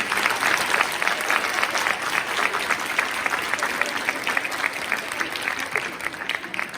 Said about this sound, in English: you guys need to give a big, big round of applause to your coaches